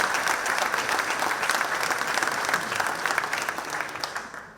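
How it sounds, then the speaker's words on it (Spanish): Sustained applause from an audience at a Spanish-language talk on the sculptural heritage of Santa Cruz de Tenerife, a dense, steady clapping that holds for several seconds and tapers slightly at the end. "pueden aplaudir, Juan de Ábalos Taborda."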